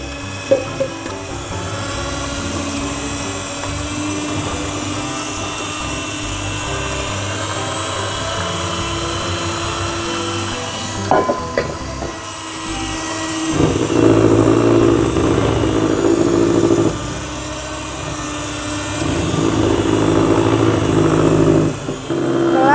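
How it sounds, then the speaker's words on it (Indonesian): An electric mixer whirs steadily through Nutella cake batter made with full cream milk, a continuous motor drone that shifts pitch and loudness midway as the beaters work, with no talking. "Lalu mixer sampai tercampur rata."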